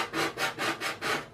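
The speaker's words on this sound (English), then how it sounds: "And this just takes a very little bit of sanding." Sandpaper worked back and forth on a small wooden part of a model boat kit, five steady rasping strokes in an even rhythm, close and fairly soft, with no talking.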